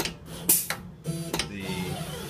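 A mat cutter works through gold picture mat board, making a quick series of sharp clicks and knocks followed by a short scraping slide of the blade, close and fairly loud with no voices.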